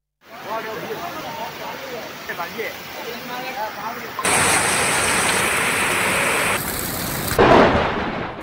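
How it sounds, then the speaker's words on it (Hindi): Torrential monsoon downpour in the hilly Sundha Mata area of Jalore, Rajasthan: a steady roar of heavy rain with rumbling thunder that swells louder midway and stays loud to the end. "जालोर के सुंधा माता पहाड़ी क्षेत्र में मूसलाधार बारिश का अनदेखा मंजर देखने को मिला"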